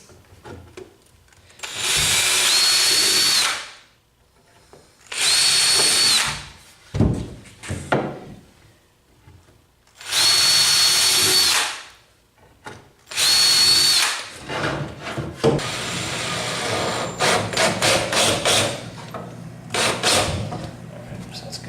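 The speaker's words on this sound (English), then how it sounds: "This is one of my customly sharp drill bits, so it goes through real easy." A power drill with a custom-sharpened bit bores through wood while building a retro arcade cabinet, four loud bursts of a couple of seconds each, followed by lighter handling clatter and rustling.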